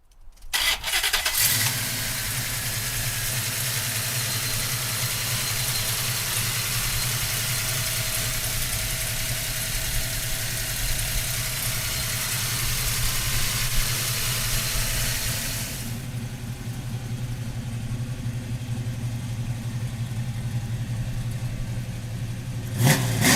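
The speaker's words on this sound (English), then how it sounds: "So come on up and we'll fire it up for you right now." A 1969 Chevrolet Camaro with a crate motor cranks and catches, then settles into a steady, loud idle with a deep rumble throughout, briefly easing off near the end.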